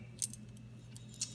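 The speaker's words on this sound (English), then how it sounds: "This is the keys to Honey's scooter with our house key and" A bunch of scooter keys and house keys jangles close by in two brief metallic bursts against a quiet room hum.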